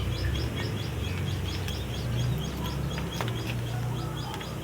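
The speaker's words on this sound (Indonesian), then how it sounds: "Suara perkutut, cerucuk, burung-burung itu burung liar" Wild birds call outdoors in a small cramped garden, a zebra dove cooing among other small birds chirping, with scattered tweets over steady background hum.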